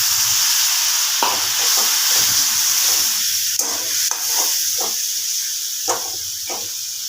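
Spices sizzle in a pan after a splash of water goes in for a potato and pointed gourd curry, a loud steady hiss with a few soft stirring scrapes.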